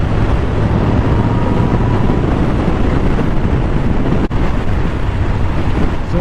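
Yamaha FJR1300 motorcycle riding at speed on a twisty Michigan road, with steady, loud wind roar buffeting the microphone throughout and a low engine drone underneath.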